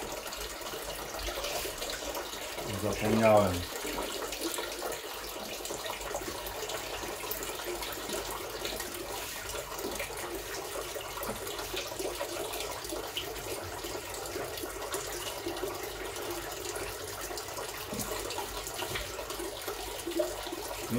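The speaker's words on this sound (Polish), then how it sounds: "No i oczywiście tradycyjnie muszę dolać wody z czajnika." Water is poured from a kettle into an Aquael Ultramax 2000 aquarium filter in a brief, close splashing gush, followed by a long quiet stretch with a faint steady hum and a single short spoken word.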